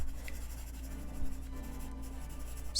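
A blending stump scrapes across paper during colouring, giving a faint, steady, close rasp over low background hum.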